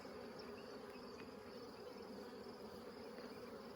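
Dense, steady buzzing of many honeybees around an opened hive box, a continuous close drone with no talking.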